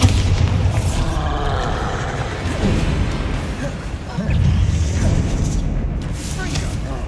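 Bombarda explosion spell cast in the Hogwarts Legacy game, booming blasts and crashes layered over dense continuous combat noise and game music, loud and sustained throughout with a heavier impact surge near the end.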